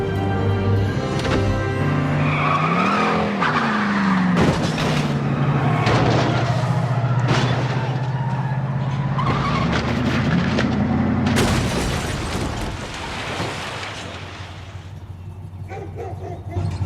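A car from the film Talladega Nights smashes into parked cars along its sides and crashes into a house, with loud booming impacts and crunching metal over a steady engine drone, mixed with music.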